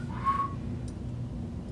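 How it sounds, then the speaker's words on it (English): A person whistles faintly while walking through an old hotel. A single short, thin tone rises briefly and then fades into a quiet room hum. "Somebody was walking out of a room and whistling, or walking into a room."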